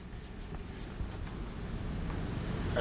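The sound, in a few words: writing on a flattened paper cup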